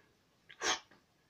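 A single short human sneeze, sharp and fairly close, with a small intake of breath just before it and quiet after.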